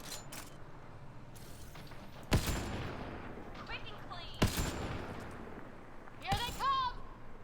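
Heavy gun firing in Mass Effect: Andromeda: three loud, sharp blasts spaced a couple of seconds apart, with faint clatter and mechanical noise between them.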